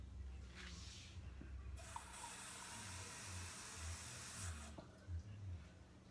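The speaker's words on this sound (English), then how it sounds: "gonna pour this water in there" Water pours into a pan in two bursts of splashing and trickling, about half a cup of water going in while cooking smothered turkey wings with cream of mushroom, with quiet handling noises between.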